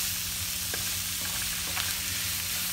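Vegetables and onion fry in oil while being stirred. A steady, soft sizzle continues throughout, with faint scrapes of a utensil in the pan and no voices.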